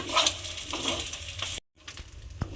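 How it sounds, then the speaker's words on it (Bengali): Rice for mushroom pulao frying in ghee gives a close, steady sizzle with stirring scrapes, broken by a brief silent cut partway through. "চালটা আমার ঘিয়ে ভালোভাবে ভাজা হয়ে গেছে।"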